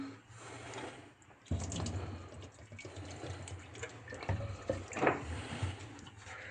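Water splashes and trickles while a Viessmann combi boiler heat exchanger is washed during servicing, a continuous close rushing flow with brief surges and drips.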